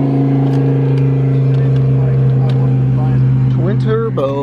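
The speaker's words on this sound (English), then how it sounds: "Twin turbo R8. That thing sounded crazy." Twin turbo Audi R8 engine revving, a steady loud drone with rising and falling rev sweeps toward the end, with people talking over it.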